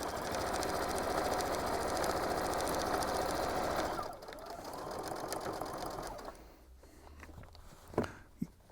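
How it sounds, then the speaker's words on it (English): Domestic sewing machine back stitching a lined tote bag seam, a steady close whirring run for about four seconds, then a quieter, uneven motor hum with a few sharp clicks near the end. "I'm going to back stitch to lock that in."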